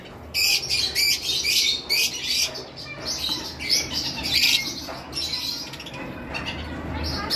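Green Fischer's and opaline Fischer's lovebirds calling in a cage, a busy chorus of shrill chirps and squawks close by, continuous over a low background hum, with someone talking.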